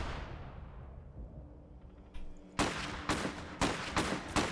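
Gunfire in an Iron Harvest video game battle: a fading boom gives way to rapid bursts of loud rifle and machine-gun shots in quick, uneven succession, dense and sharp.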